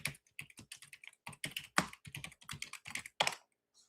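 Rapid clicking of keys on a computer keyboard, close and fairly quiet, in irregular bursts of keystrokes that pause briefly near the end, with no voices.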